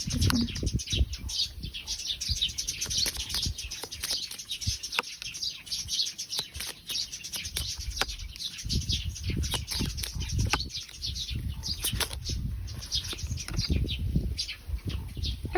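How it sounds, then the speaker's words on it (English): Birds chirp and flutter outdoors throughout, a steady scatter of short tweets and wingbeats at moderate distance against light background noise, with no talk. "there's a nice birds in the back, so maybe you enjoy this"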